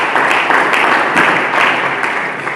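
Church congregation applauding Jesus Christ during a sermon, a dense, steady wash of many hands clapping at close range, loud and sustained throughout without pause.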